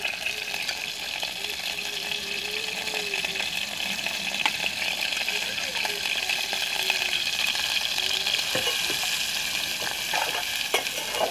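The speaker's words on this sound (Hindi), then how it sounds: "अब इसमें प्याज शामिल करेंगे।" Onions frying in hot ghee for an egg roll recipe, a steady broadband sizzle that holds throughout at close range, with occasional soft stirring clinks and no talking.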